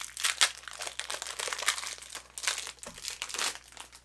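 A small plastic bag is ripped off a clothing buckle, close, loud crinkling and tearing in a series of sharp bursts and rustles with no voice.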